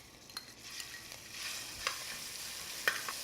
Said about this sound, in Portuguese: Eu vou dar uma selada rápida nesses cubos de carne